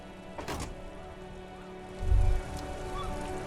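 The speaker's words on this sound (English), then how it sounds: "All around you, rain falls on the great city of Revachol." Rain falling over the city of Revachol in Disco Elysium, a steady soft patter of drops on surfaces with a brief low thump partway through, close and even, no voices.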